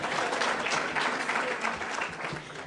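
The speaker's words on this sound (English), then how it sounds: "now I want you to give yourselves a round of applause for making it here this morning." A morning audience at a City Club gathering in Illinois gives a round of applause, fairly soft and distant-sounding, a steady wash of clapping that continues for several seconds.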